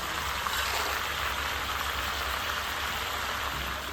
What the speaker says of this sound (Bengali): এখানে জোরে আসছে বৃষ্টি